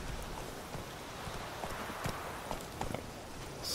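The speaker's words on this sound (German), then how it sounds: "Gut, dann reiten wir einfach mal" Horse hooves clip-clop at a walking pace while riding in The Witcher 3, a steady, soft rhythm of hoofbeats close by over faint ambient game sound.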